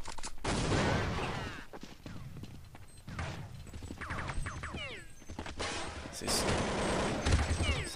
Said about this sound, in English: So I'm killing the first one and I'm starting to defuse the bomb